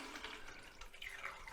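Water running for a rinse of freshly developed Fomapan 100 film in a darkroom sink, a steady close splashing trickle with brief brighter drips, heard alone without talk.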